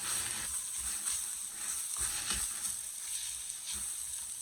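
Five-spice seasoning sizzles in a hot pan while stir-frying for a vegetarian crispy roast pork dish, with a steady close crackle and occasional scrape-like bursts of stirring throughout.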